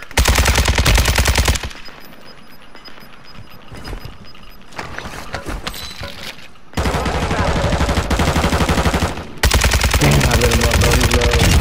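Sustained bursts of automatic gunfire from a Call of Duty match, loud and dense at the start and in the final seconds, easing to quieter scattered shots and battle ambience in between.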